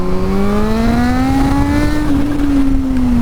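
A Kawasaki Z H2 motorcycle accelerates hard in second gear while lifting into a wheelie. Its loud, close engine note climbs smoothly in pitch, then eases slightly, with no voices.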